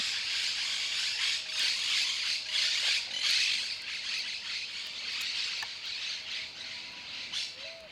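A striped owl gives harsh, raspy squawking calls in repeated bursts, fairly close and moderately loud over a background of faint insect chirring, with no talk.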